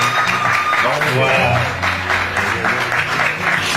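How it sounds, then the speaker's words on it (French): Loud crowd applause at a church holiday camp rolls on continuously while someone speaks briefly over it. "ça mérite des applaudissements s'il vous plaît"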